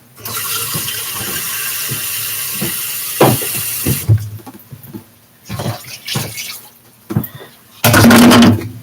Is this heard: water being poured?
yes